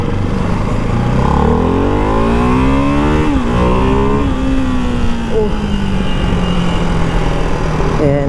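A Ducati Hypermotard 698 Mono single-cylinder motorcycle engine revs hard and loud up close, its pitch rising and falling through gear changes amid constant wind noise.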